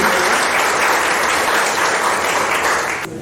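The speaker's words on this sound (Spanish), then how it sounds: "aplauso" Loud, dense applause from a conference audience fills the whole moment, steady and close, then cuts off sharply at the end.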